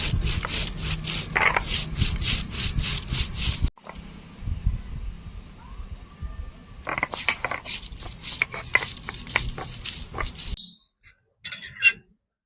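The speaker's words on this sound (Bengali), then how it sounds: "প্রথমে আমি জিরেটা বেটে নেব" Whole cumin seeds are ground on a grinding stone in a quick, steady run of rhythmic rubbing strokes, close and loud, then a pause and a second, sparser run of grinding strokes.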